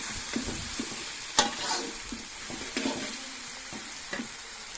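Soft frying sizzle of ginger-garlic paste in a pan with occasional scraping stirs and utensil taps, moderately close and fairly quiet, no voices.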